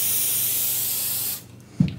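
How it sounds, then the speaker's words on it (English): Spray basting adhesive hisses loudly and steadily from an aerosol can onto a quilt, then stops, followed by a brief soft thump. "Now you may say you're using an awful lot of that spray basting."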